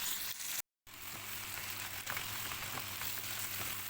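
Marinated chicken sautéing in a pan, a steady close sizzle and crackle of frying with occasional stirring, briefly cutting out for a moment, no talking.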